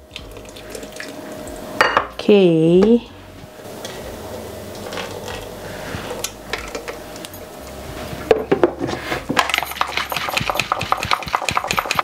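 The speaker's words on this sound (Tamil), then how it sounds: "கொஞ்சம் தண்ணி விட்டு நல்லா கழுவி எடுக்கலாம்." A mixer grinder jar is rinsed with water in a home kitchen while semolina idli batter is made, with close clattering and sloshing, a brief whining sweep early on, then a busier rattling, buzzing stretch toward the end.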